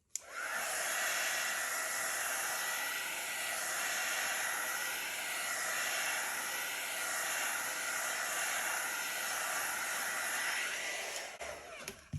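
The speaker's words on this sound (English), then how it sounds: "I'm just going to hit it with the heat embossing tool." A heat embossing tool blasts hot air over an acrylic reverse flower dip poured over a bottle, giving a steady, close, breathy roar that starts abruptly, holds for about eleven seconds and then clicks off.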